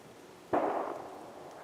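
A single distant gunshot from hunters in the area cracks out once and rolls away into a fading echo over quiet outdoor background.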